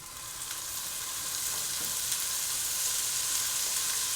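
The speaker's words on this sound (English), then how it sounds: "When it starts a little sizzle, starts to get going" Ground meat for taco zoodles sizzles steadily in a hot frying pan, a continuous bright crackling hiss that grows slightly louder, close by with occasional soft scraping.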